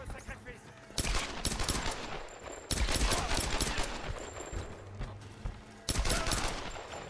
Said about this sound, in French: Ce flingue, c'est bien, il tire en rafale